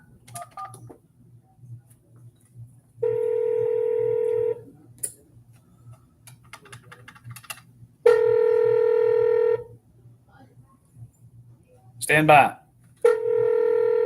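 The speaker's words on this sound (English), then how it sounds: "I'm not going to let anybody see me dial this number." A phone number is tapped out in touch tones: three long, loud runs of keypad beeps separated by small clicks and handling noise, with a brief spoken word and a soft background hum between them.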